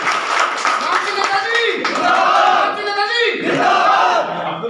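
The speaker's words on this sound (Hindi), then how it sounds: "आप जोरदार तालियां दें" A political gathering crowd after election results cheers and claps loudly for a local leader, shouts and whoops rising over scattered applause for several seconds, with voices prominent throughout.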